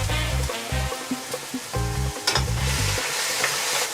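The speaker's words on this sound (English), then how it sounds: "So we're going to saute this for a couple minutes." Food sautéing in a hot pan, a loud steady sizzle broken by repeated bursts of stirring and scraping with a utensil, close up and with no talking.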